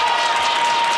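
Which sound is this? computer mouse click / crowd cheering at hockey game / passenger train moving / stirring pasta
crowd cheering at hockey game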